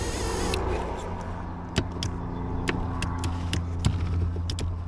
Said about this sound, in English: that motor is weak, the up and down for the front of the seat